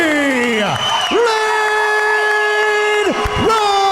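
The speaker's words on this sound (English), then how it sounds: "I wish y'all could hear this crowd. Holy crap." A crowd roars at an MMA fight night co-main event as a fighter making his pro debut is introduced, with loud sustained cheering and whoops under a booming announcer's voice and ringing tones.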